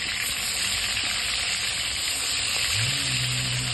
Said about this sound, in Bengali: মাছগুলিকে উল্টে পাল্টে আমি এখন ভেজে নেব